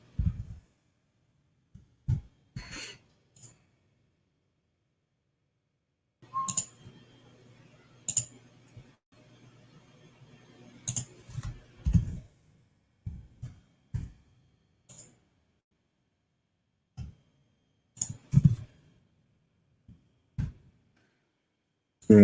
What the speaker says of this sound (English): We're typing some things up.